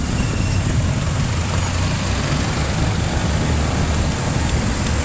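Road traffic hums steadily around a delivery rider, with idling engines giving a continuous low rumble under a broad wash of street noise, no clear passes standing out.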